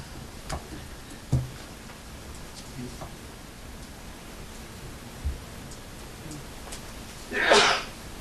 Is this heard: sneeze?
yes